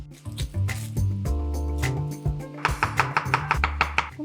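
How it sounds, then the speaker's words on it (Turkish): A knife slices a red onion into thin rings on a cutting board, giving sharp, close, rhythmic chops that quicken into a steady run of crisp cuts toward the end. "Kırmızı soğan doğrayacağım. Piyazlık şekilde doğruyorum."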